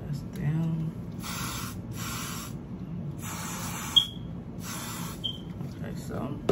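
Several short hissing bursts of a spray can sprayed onto a wig, each lasting about half a second, separated by pauses, with faint low background noise.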